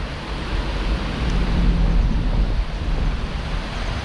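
A river near Chipstead flows in a steady, rushing wash of broadband noise with a low rumble underneath. It is fairly loud and continuous, with no speech.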